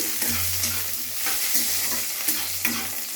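Cashews and raisins fry in oil with ginger, cloves and cinnamon, giving a steady close sizzle with a low hum underneath and a few soft stirring scrapes at regular intervals.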